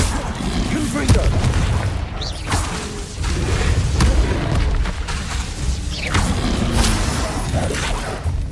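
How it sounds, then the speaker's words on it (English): Confringo fire spells exploding in Hogwarts Legacy combat, a busy run of booming blasts, whooshes and crashing impacts over a steady rumbling bed, loud and close with uneven spacing. "Confringo."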